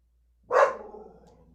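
A dog gives one loud bark at close range that fades into a brief rough tail, with silence before it.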